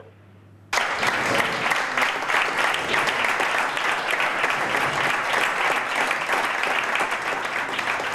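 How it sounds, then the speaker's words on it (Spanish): Party colleagues applaud Pablo Casado of the Partido Popular, a dense, steady burst of clapping that starts abruptly after a quiet moment and holds loud and even to the end. "Entre aplausos así han recibido a Pablo Casado sus compañeros de equipo"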